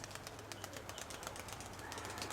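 A pigeon at a fair coos faintly among other background sounds, soft and distant over a steady low hum.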